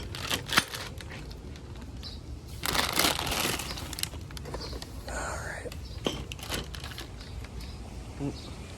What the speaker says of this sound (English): I'm gonna go ahead and unwrap this.